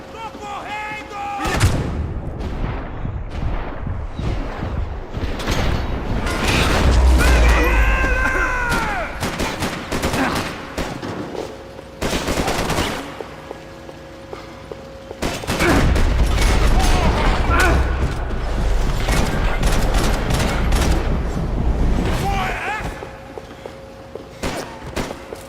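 Pistol gunfire in the shooter game Max Payne 3: repeated sharp shots in bursts across a long stretch of chaotic game action with loud booms, music and voices talking throughout.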